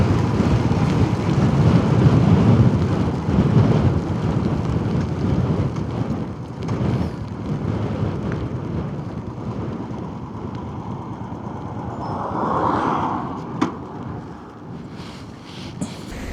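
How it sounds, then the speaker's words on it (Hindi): Rain at Dhanushkodi near Rameshwaram falls as a steady hiss over wind gusts that buffet the microphone, loudest at first and easing later, with a brief sharp knock near the end. "और बारिश शुरू हो गई है"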